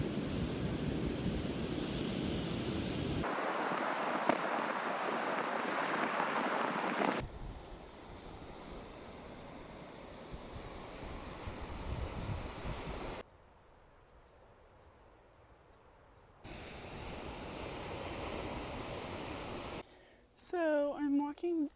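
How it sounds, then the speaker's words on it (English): Big surf crashing on a Hawaiian beach, a continuous roar of breaking waves with wind buffeting the microphone, cut into several short segments of varying loudness, with a brief stretch of talk near the end. "The waves are insane."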